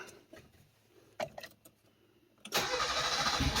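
A Mitsubishi Pajero Mini Turbo with its exhaust removed cranks over briefly with a few faint clicks and then fires up into a loud, steady open-pipe roar that carries to the end.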